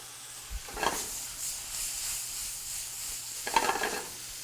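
A splash of white wine hitting softened leeks in a hot pan gives a soft, low hiss with a couple of brief stirring clatters near the start and end.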